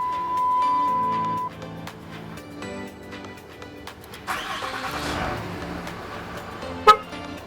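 A 2006-2007 RAM 3500 diesel pickup is remote-started: a short horn chirp and a tone, then the starter cranks and the engine catches, followed by a sharp horn toot near the end.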